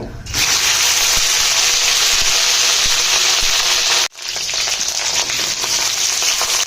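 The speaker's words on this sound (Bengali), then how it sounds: "এবারে ঢেঁড়সগুলোকে তেলের মধ্যে দিয়ে দেব" Okra pieces drop into hot white oil in a wok and set off a loud, continuous sizzle, a brief dip as they are stirred, then the frying hiss resumes steadily close by.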